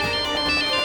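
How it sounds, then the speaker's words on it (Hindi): A phone ringtone plays loud and close indoors, a steady tonal melody filling the short moment alone without any talking. "किसका फोन आया?"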